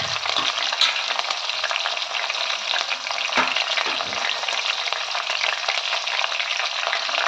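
Green chilli pieces sizzle and crackle in hot oil during a tempering that already holds seasoning seeds and dried red chillies, a loud, steady frying hiss with occasional stirring clinks, no voices.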